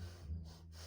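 A person imitates snoring with one short, faint snort-like breath, alone and close.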